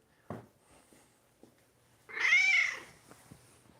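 A single drawn-out cat meow, fairly close and clear, following a brief soft knock in an otherwise quiet room.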